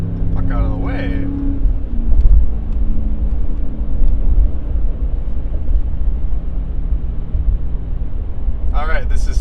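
A Ram 1500 pickup fitted with a Borla S-Type exhaust accelerating onto a highway, heard as a loud, steady low rumble from inside the cab, with brief voices at the start and end.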